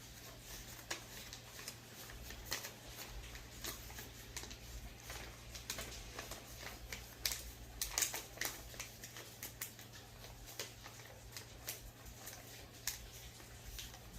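Paper being folded for origami, with soft crinkles, creases and light taps scattered through a quiet room, faint and close, over a low steady hum, no talking.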